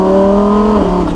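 A 2020 Lamborghini Huracan Evo Spyder's naturally aspirated V10 revs loud and close, a strong steady harmonic drone that shifts pitch briefly near the end.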